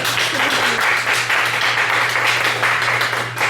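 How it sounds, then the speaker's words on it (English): Audience applause fills a bistro during a Pride-edition reading series, steady dense clapping throughout with a constant low hum underneath. "So now you must applaud for me."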